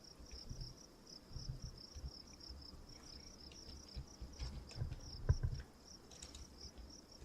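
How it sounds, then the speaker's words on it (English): Steady cricket chirping from the ambient soundscape of the video game Dwarf Fortress: a thin, high, continuous pulsing trill held quietly over a soft low rumble, with a few brief louder thumps partway through. "I don't know why I kept the cricket sounds up so long."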